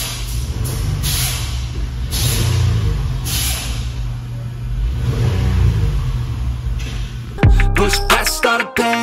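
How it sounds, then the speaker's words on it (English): A Honda Pilot engine, being checked after crank rod bearing repair, gets a few light revs: several short rises and falls of engine note, close and steady, ending with an abrupt burst of other noise. "Do a couple of baby revs."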